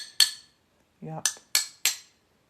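Sharp glassy clinks and snaps as fused-glass sheet is scored and broken, four crisp bright hits spaced apart with a short tonal rattle between, close and isolated.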